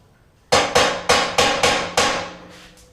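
A hammer strikes a steel tube chassis part six times in quick succession to seat the upper radiator core support. The ringing metallic taps are close and loud, with no other sound.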